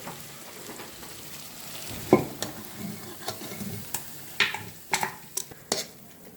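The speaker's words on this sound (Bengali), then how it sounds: "চিনিটা দিয়ে এবার একটু নাড়িয়ে চাড়িয়ে নিলাম।" Mutton stirred with sugar in a pan on the stove, a spoon scraping and knocking the metal in irregular strokes over a steady frying sizzle, close and moderately loud with no talking.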